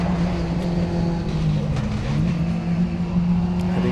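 A retro class rallycross race car at Pembrey drives hard from tarmac onto loose gravel and back, a loud steady engine roar sustained throughout with shifting pitch and no pauses.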